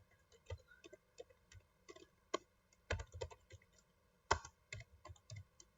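Rapid, uneven keystrokes on a computer keyboard as a command is entered into a network device's CLI, with a few louder key hits standing out; close and fairly quiet, no talking.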